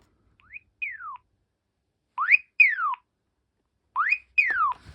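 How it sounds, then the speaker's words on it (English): A Philips DECT 511 cordless phone sounds its paging tone: three pairs of sweeping electronic chirps, each a rising then falling glide, repeating at a steady pace, clear and alone. "that's the paging sound"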